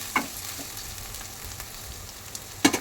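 Ivy gourd curry being stirred in a non-stick kadai, where it tends to stick to the bottom: a faint, steady sizzle with a few soft scraping clicks near the start and end, no voices.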